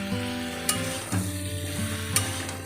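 Vegetables with green chilli paste fry and get stirred in a pan, a steady low sizzle broken by occasional scraping knocks of the spoon.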